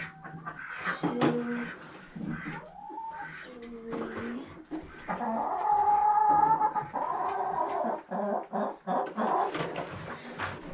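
Chickens cluck and coo in a coop during egg collection, a mix of close, moderately loud hen calls with warbling bursts and scattered clucks, with no talking.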